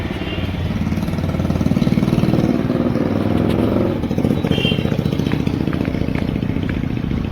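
A tractor engine works a ploughed farm field, a steady mid-pitched chugging drone with clattering that holds fairly loud throughout, dipping slightly near the middle before carrying on.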